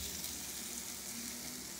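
Chaffle batter sizzles on the hot waffle plates of a Pampered Chef Deluxe Grill/Griddle, a steady close hiss with no voices.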